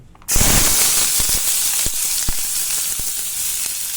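A sudden loud sizzle as chopped large onions hit hot oil for egg masala, then steady hissing frying with scattered sharp pops and crackles, close up, no voices.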